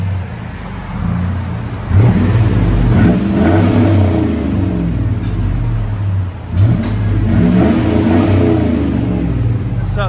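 A 1999-2006 GMC Sierra with a 5.3L V8 and true dual straight pipes revs loudly up close, its deep, raspy exhaust climbing in two sharp surges over a steady rumbling idle.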